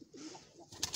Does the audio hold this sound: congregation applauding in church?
no